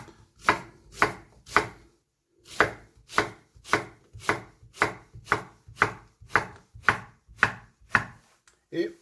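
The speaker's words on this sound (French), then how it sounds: "Nous allons commencer par tailler nos courgettes assez grossièrement." Courgettes being coarsely chopped with a knife on a board, a close, loud run of about sixteen evenly spaced chops with a short pause after the first three.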